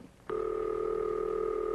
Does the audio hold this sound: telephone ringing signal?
yes